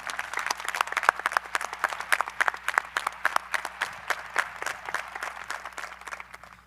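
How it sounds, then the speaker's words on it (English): Applause for a retiring administrator at the Blue Valley North 2025 high school graduation ceremony, a crowd clapping steadily with sharp individual claps standing out, tapering off at the end. "Please give a big round of applause to Dr. Merrigan on her last Blue Valley North graduation ceremony"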